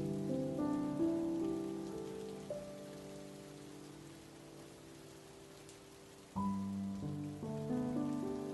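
Continuous light rainfall hisses quietly behind slow, calm musical tones, without any talking.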